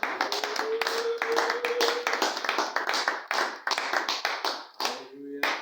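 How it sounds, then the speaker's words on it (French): A church congregation claps loudly in dense, uneven bursts, with cheering voices and a sustained vocal tone rising over the applause. "Nous acclamons très fort."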